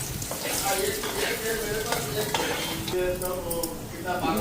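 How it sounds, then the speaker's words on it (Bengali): Potato pieces frying in a pan give a constant, fairly loud sizzle and crackle throughout, with light stirring clatter on top and no clear speech. "আগে আলুটা হালকা ফ্রাই হোক পরে বেগুনটা দেবো"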